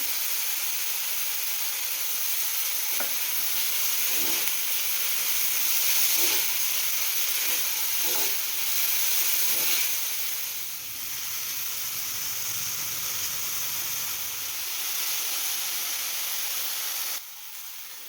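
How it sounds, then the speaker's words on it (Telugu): A thotakura (amaranth leaf) omelette mixture fries in a pan with ghee, giving a steady, close hiss and sizzle that runs throughout, with a few soft taps of a utensil and no talking. "ఇప్పుడు ఫ్రై చేసుకుందాం."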